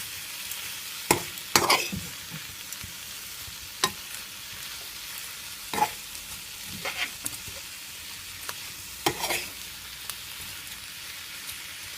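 Pepper shrimp fry in a pan on a medium stove as they are stirred, with a soft continuous sizzle broken by irregular scraping and clinking strokes of a spoon, close by.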